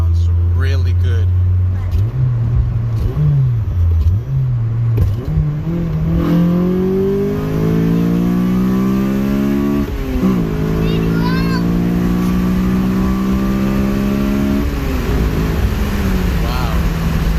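Honda Civic Si with a K20Z3 engine and PLM header revving repeatedly, rising and falling in pitch through several long pulls, loud and close, with people talking over it.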